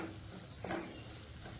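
Ground masala sautéing with onions in a pan for crab gravy, a faint low sizzle with a brief stir or scrape partway through.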